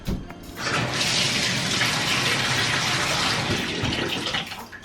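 Water gushes from a tap into a plugged bathtub in a home bathroom, a loud, steady, close rush that stays unbroken and tapers slightly at the end.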